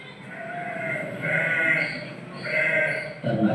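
Sheep bleat in a few drawn-out calls, moderately close, over a steady background hum with no one talking.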